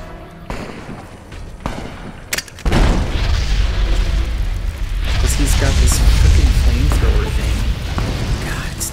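Grenades explode in Fallout New Vegas, with several sharp booms early and then a long heavy rumbling blast, loud and close, while someone talks.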